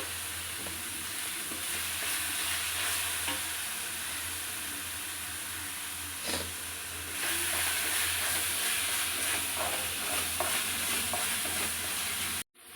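Vegetables fry on a high flame in a pan, giving a steady loud sizzle and hiss with occasional stirring scrapes throughout, no voices, ending abruptly.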